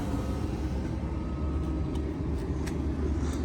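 A steady low exhaust hum from an idling Volkswagen Tiguan R-Line 140 kW idles close by, continuous and even, with no voices over it.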